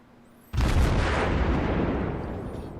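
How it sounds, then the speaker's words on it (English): A German Konigsberg cruiser firing its guns in World of Warships, a single heavy report that starts suddenly and rumbles away slowly, with no talk over it. "Try to see if I can get some more shots on him across the mountain"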